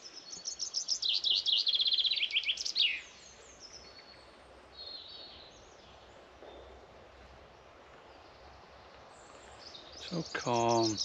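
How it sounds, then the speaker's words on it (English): Bird song in a spring forest with bluebells: bright trilling chirps burst out at the start, fall away into quiet ambience, then return in a loud rapid trill at the end. "So calm and peaceful. Only noise is the bird song."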